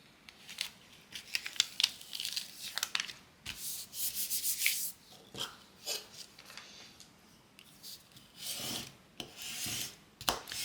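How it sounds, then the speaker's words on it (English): Permanent vinyl is burnished through transfer tape onto wood, producing bursts of close scratchy rubbing and scraping strokes, some longer and some short, separated by brief pauses. "This is burnishing it, so it will transfer to my transfer tape here."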